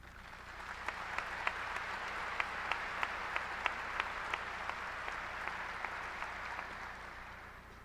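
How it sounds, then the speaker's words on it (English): Audience applause at a high school graduation ceremony in a large hall, steady sustained clapping from many hands with a few sharper nearby claps standing out, fairly distant and even throughout. "audience, please hold your applause until all are introduced"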